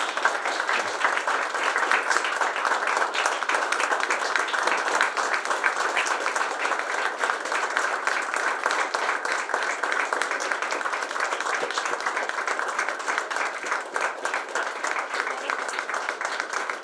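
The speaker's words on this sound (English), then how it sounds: "let's give a hell of a round of applause for our Cuban American hero" A crowd at a Tampa civic anniversary ceremony gives a long, sustained round of applause, dense steady clapping that stays even throughout with no voices standing out.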